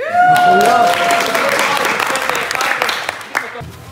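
Group applause for actors at a film set town, a burst of clapping rising right away and continuing steadily, with a whistle-like tone and voices early on, then thinning toward the end.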